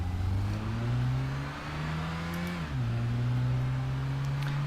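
A car engine in the Gran Turismo 5 racing game revs high and holds steady, dips briefly as if shifting, then climbs back to a sustained whining drone, loud and alone with no talk.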